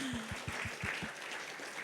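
A church congregation at a Pentecostal service in North Jakarta claps in a quick, steady rhythm, dense and moderately loud, before the beat loosens into scattered applause.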